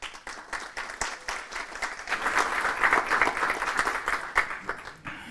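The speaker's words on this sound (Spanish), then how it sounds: "Le damos la bienvenida a Juan, un fuerte aplauso." Workshop audience applause welcoming a speaker: a steady patter of many hands clapping at moderate distance, swelling slightly midway and holding to the end.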